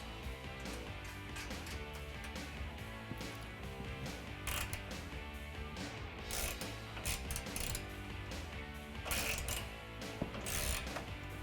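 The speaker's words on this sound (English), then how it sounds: "take a 10mm wrench and the same T30 Torx bit and tighten that down" Ratcheting clicks from a 10mm wrench and T30 Torx bit tightening a bolt on a 2018 Jeep Wrangler JL Mopar tailgate table, repeated bursts of mechanical ticking over steady background music, no talk.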